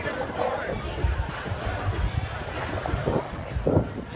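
Strong wind buffets the microphone in a gusty outdoor spot, a broad steady rush with louder surges throughout, while people talk and chatter nearby.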